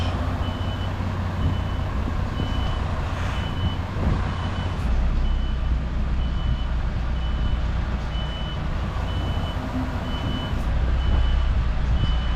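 A lorry slowly reverses a trailer into a tight yard toward a hedge, its reversing alarm beeping in a steady, evenly spaced rhythm over a low idling diesel rumble.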